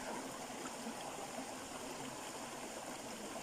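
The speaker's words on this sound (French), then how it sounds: "Vous retraversez la rivière." River water flows steadily in a stream, a continuous, even rush and babble with no other sounds.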